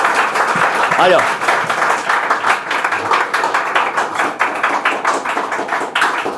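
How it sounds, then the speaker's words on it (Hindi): An audience in a local library applauds a young performer after a patriotic poem, loud, close, steady clapping throughout, with a brief spoken voice and a few thuds near the start. "जोरदार तालियों के बीच अविनाश"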